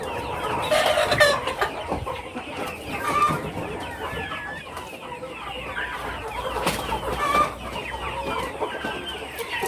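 Several chickens cluck and squawk close by, a busy overlapping chorus with occasional louder calls rising above the flock.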